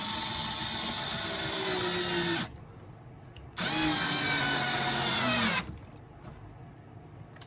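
A power screwdriver drives a screw during model railway work in a shop, whirring loudly in two sustained runs of about two seconds each, with a short pause between them and quiet afterward.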